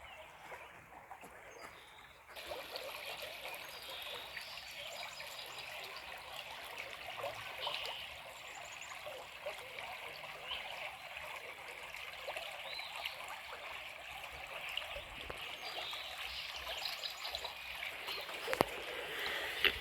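Flowing water rushes in a steady, broad hiss outdoors, quiet for the first couple of seconds and then louder and continuous with no talking.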